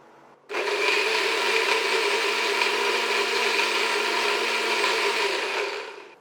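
A blender grinds coconut together with soaked nuts and dates, starting abruptly and running as a loud, steady whirring roar for about five seconds before winding down at the end; no one speaks.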